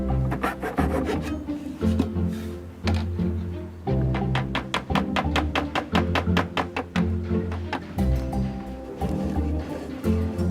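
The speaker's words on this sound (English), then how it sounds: "I'm going to use this nice, very fine saw here to make a slight incision" A very fine hand saw makes a slight incision in wood during a restoration, rapid back-and-forth strokes coming in close, crisp bursts separated by short pauses.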